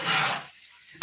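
Asparagus hash sautéing over medium heat in a cast iron pan, a close sizzle and scrape that fades to near quiet before a brief sharp clatter at the end.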